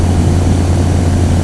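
An aircraft engine drones loud and steady during the climb to about 1,000 feet, with a constant low hum and broadband rush and no voices.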